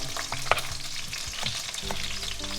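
Finely chopped onion and carrot frying in oil, with continuous sizzling and some stirring scrapes and spatters. No one speaks.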